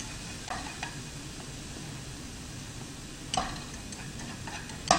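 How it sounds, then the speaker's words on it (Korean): Carrots stir-frying in oil over low to medium heat, a soft, steady sizzle with a few sharp clicks of the utensil against the pan, quiet and close, with no talk. "당근은 익을 때까지 약불이나 중불로 줄여주시고 그 다음에 속에 익을 때까지 좀 볶아줍니다."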